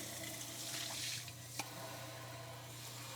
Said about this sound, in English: And then I'm also rinsing the coffee pot